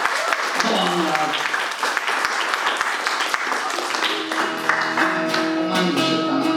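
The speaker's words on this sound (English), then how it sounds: "Come on, David, big round of applause." Live audience at a music show applauding throughout, dense steady clapping close by, with a voice speaking over it and a few musical notes creeping in toward the end.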